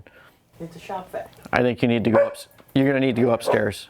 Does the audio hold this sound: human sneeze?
no